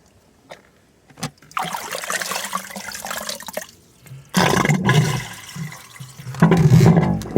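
Water running and splashing as a swimming pool's level is lowered before winterizing, heard in bursts of rushing, gurgling flow with short quiet gaps in between.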